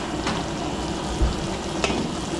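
Garlic frying in melted butter for a mixed seafood dish gives off a soft, steady sizzle close by, broken by two sharp utensil taps and a low thump in the middle; no speech.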